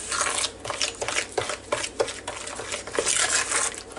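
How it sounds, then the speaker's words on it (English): Pecan bread batter is stirred steadily in a bowl, with a continuous close scraping and swishing that swells in uneven strokes, and no voices. "Stirring while we add, because if not, it sure will be lumpy."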